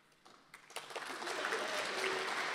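An audience at a university film and TV awards ceremony breaks into applause, starting with a few scattered claps and swelling into sustained, dense clapping that continues to the end.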